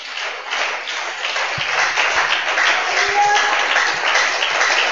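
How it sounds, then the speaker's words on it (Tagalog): Church congregation clapping in a continuous, fairly even patter of many hands, with a few sharper low knocks and a faint brief tone partway through, no one speaking. "Mahina ang palakpak."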